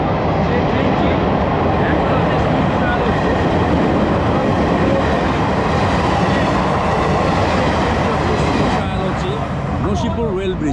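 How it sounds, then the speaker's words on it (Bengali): A train crosses the Nashipur rail bridge near Murshidabad toward Azimganj, making a loud, close, continuous rumble and clatter of wheels and wagons that holds for the whole stretch and eases slightly near the end. A voice talks over it. "দেখতেই পাচ্ছেন আপনারা যে কতটা স্পিডে ট্রেনটি আসছে হর্ন দিতে দিতে।"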